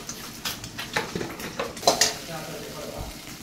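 Eggs whisked in a bowl with oil, salt and chilli powder, a quick run of light clinking and tapping strokes close by, fading out toward the end.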